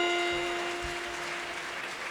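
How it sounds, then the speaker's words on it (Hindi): Applause at a religious gathering in Ahmedabad, a steady, diffuse wash of clapping from the audience, fairly faint, with a sustained tonal hum running underneath. "जोरदार तालियां।"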